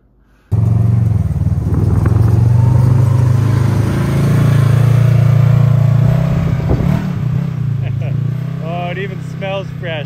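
A 4x4 side-by-side engine warms up at a steady low rumble, close by, with occasional revs while people talk over it.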